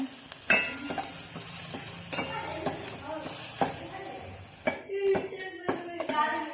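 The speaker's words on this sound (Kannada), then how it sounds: "ಸ್ವಲ್ಪ ಹಸಿಮೆಣಸನ್ನು ಹಾಕಿ, ಈರುಳ್ಳಿಯನ್ನು ಹಾಕಿ ಸ್ವಲ್ಪ ಫ್ರೈ ಮಾಡಬೇಕು" Green chillies, onion and capsicum frying in a pan for hibiscus flower soup, a soft sizzle with a spatula stirring and scraping against the pan in repeated clinks and taps, close by and moderately quiet.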